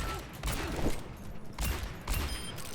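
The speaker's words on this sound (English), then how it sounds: "have a little change of pace, go for a long range shot. Another long range shot." Long-range gunshots from McCree's revolver in the video game Overwatch: three sharp, fairly quiet shots about a second apart, each with a short reverberant tail, over low game ambience.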